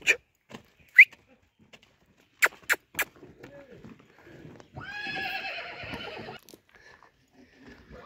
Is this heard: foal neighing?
yes